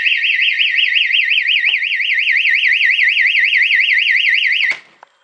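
A loud, piercing electronic alarm wails continuously in a fast warbling pattern, then cuts off abruptly near the end, followed by a brief click.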